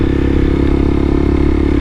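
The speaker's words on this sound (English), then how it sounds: "That looked like a little motorized bike they were going on there" A small motorized bike runs close by on a residential road, its steady buzzing engine holding a continuous mid-pitched drone with a rapid pulsing flutter throughout, loud and without voices.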